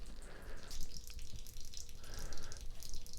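Coolant water drains steadily from a pickup truck engine during a teardown, a continuous trickling, splashing flow that stays fairly quiet throughout, with no talking.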